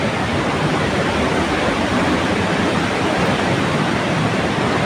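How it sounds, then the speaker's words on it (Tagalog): Powerful rushing water pours over the old Wawa Dam in Montalban, Rizal, Philippines, a loud, continuous, unbroken roar with no voices over it. "Lakas ng agos ng tubig."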